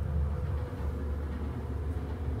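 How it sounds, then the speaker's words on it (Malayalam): Interior of a moving German train crossing Switzerland: a constant low rumble of wheels and carriage hum, even and enveloping, with no talk. "in A German train"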